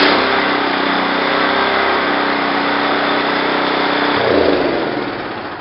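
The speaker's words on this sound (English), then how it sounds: "let's start up these things real quick, just to give you a demonstration that the engines are in good condition" Bluebird power rake dethatcher, shown in good condition, runs with a steady, loud small-engine drone that holds even throughout, then rises in pitch briefly near the end before easing off.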